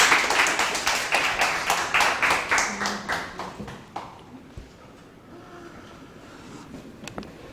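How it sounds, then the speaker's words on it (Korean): An audience at a coding bootcamp team project demo applauds to welcome a presenter, with rapid, steady clapping that is loud for about four seconds, then fades to a few scattered claps and room noise. "박수와 함께 맞아주시면 감사하겠습니다"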